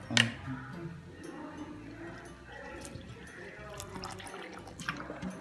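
Water poured into flour batter for a sweet dosa snack and stirred in, a sharp splash at the start followed by steady sloshing and liquid mixing, close and moderately loud, with no voice.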